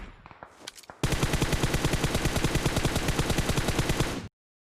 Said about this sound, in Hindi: यहाँ पे अपन एक्सटेंडेड क्विक ड्रॉ मैक लगा के और बिना लगा के दोनों पे देखते हैं रिलोडिंग टाइम क्या आता है।